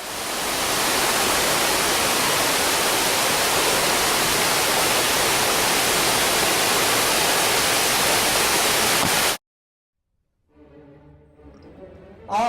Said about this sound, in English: we could get out and view this beautiful waterfall